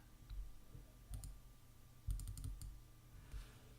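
A computer mouse clicks in 3D modelling software, a few faint, close, crisp clicks in small irregular groups over a quiet room hum.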